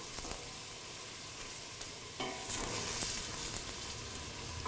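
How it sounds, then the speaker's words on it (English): Onions and vegetables sauté in a pan for red wine braised lentils, a quiet, steady sizzle that swells slightly midway, with faint stirring and no talking. "So we're going to saute the veggies here until they're nice, the onions are nice and wilted and they start to caramelize."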